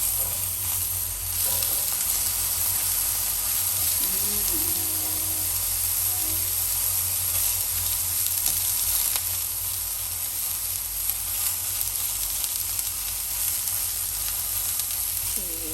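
King oyster mushrooms sear in a hot pan, a loud, continuous crackling sizzle that stays even throughout, with a brief faint voice in the background.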